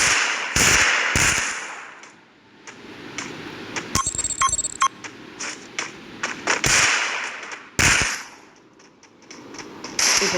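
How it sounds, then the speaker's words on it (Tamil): Shotgun blasts from the mobile battle-royale game Free Fire come in sharp, loud single bangs: two close together, a cluster of quieter pops, then two more heavy shots, each followed by a brief ringing tail. "பாருங்கள், 2 ஷார்ட் கன்லேயும் டிஃப்ரெண்ட்டாக அடிச்சிருப்பேன்."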